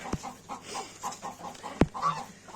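Chickens eating wheat, clucking softly in a quick, repeated rhythm, close by, with a couple of sharp louder knocks or pecks.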